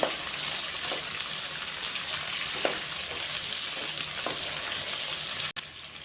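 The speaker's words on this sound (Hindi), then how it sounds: "इसे हम 10 to 15 सेकंड के लिए सौते करेंगे" Capsicum and paneer sauté in a hot pan, giving a continuous close sizzle with small crackles and an occasional stirring scrape, and no voices.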